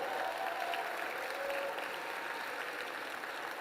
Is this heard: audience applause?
yes